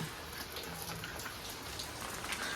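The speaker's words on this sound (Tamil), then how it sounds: "இப்பயும் மழை நிக்காம பெய்யுது, நல்லா கனத்த மழையாவே பெய்யுது." Heavy rain pours steadily in a rural spot in Namakkal district, with a dense, even patter of drops striking surfaces, fairly faint and continuous, with no voices.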